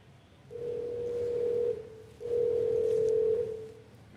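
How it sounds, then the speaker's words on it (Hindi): Two long, steady telephone tones sound one after another, a ringback tone of a call being placed, with a short gap between them. "तो भाई यश जननी जी को फोन लगाया जाए महाराष्ट्र में"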